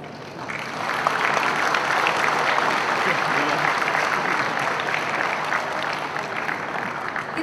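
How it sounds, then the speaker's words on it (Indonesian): Sustained, lively applause from an audience at the Pekan Produk Kreatif Indonesia 2009 event, rising after a brief lead-in and holding steady as dense clapping for several seconds, with faint voices beneath. "Kita beri tepuk tangan sekali lagi yang meriah."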